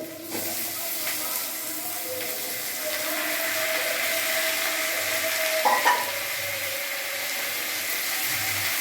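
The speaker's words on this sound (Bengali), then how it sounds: "এর মধ্যেই আমি কাঁচা মাংসটা ভাজবো" Raw meat frying with chopped green chillies in a home kitchen pan, a steady bright sizzle and hiss running throughout, with occasional stirring clinks, at moderate level with no talking.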